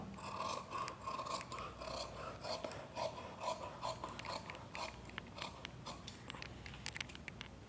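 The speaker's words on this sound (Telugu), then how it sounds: "ఫస్ట్ మనం ఇక్కడ కటింగ్ అనేది చేసేద్దాం" Scissors cutting blouse fabric for a double-layer umbrella-sleeve blouse, a steady run of close, quiet snipping and rasping crunches with faint rubbing of cloth, alone without talk.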